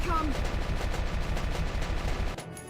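Rapid bursts of gunfire from the tactical war game Valkyria Chronicles crackle continuously for a few seconds, loud and dense, then cut off abruptly near the end.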